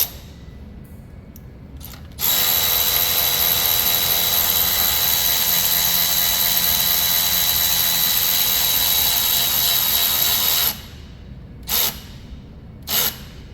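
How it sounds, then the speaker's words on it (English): A loud, continuous whirring buzz of a power tool tightening a bolt while fitting a Subaru alternator runs for several seconds, then stops, followed by two short bursts. "what we're going to do is we're going to start tightening this up."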